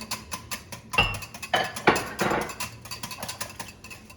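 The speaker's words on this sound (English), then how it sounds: "Then you're going to mix again." Scone dough is mixed with buttermilk in a bowl, a close series of clinks and knocks of a utensil against the bowl in an uneven stirring rhythm.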